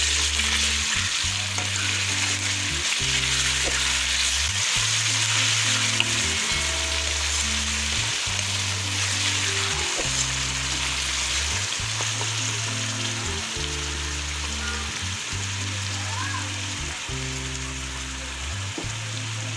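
Golden-fried onion sizzles in a pan as garlic ginger paste goes in, a loud, continuous crackling fry with stirring throughout, no voices.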